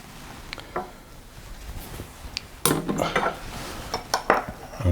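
A knife cuts into a warm hot cross bun on a plate, giving scattered metallic clinks and scrapes against the dish, a few louder taps in quick clusters toward the end.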